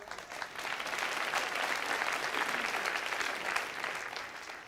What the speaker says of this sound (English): Yeah, you can cheer.